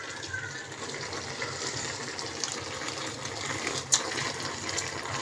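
Water gushes steadily into a cooking pot of tinola, a continuous close splashing pour with no break.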